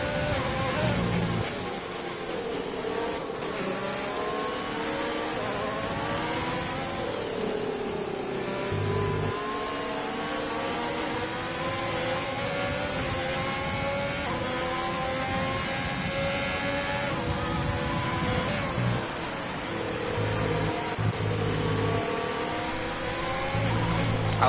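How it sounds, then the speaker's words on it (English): Formula race car engines of an Alfa and a Ferrari in a racing video game at the Austrian GP, a steady layered whine of revving and shifting engines throughout, with commentary running over it. "I love how the sound of the engines between the Alfa and the Ferrari are so close together"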